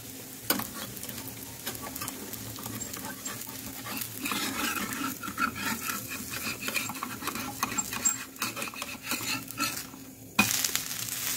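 Rice-flour paratha cooking on a hot pan, a soft continuous sizzle and hiss with occasional clicks, growing busier midway, ending in a sudden brighter burst, with no speech.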